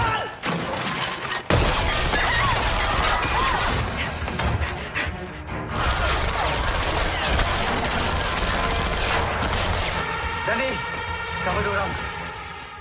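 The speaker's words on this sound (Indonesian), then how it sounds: "terjadilah baku tembak" Loud bursts of gunfire and shattering glass in a chaotic, sustained film firefight, with raised voices mixed in.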